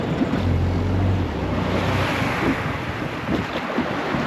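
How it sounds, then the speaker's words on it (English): Small dinghy coming in through surf onto a rocky island shoreline, with steady broadband wash of waves and wind buffeting the microphone, a low motor hum early on, no talk. "It's not easy to beach your dinghy."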